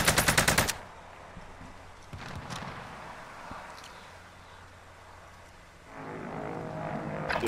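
Gunfire in Call of Duty Modern Warfare: a short rapid burst of automatic fire at the start, then quieter scattered shots and in-game background noise, with a louder stretch near the end.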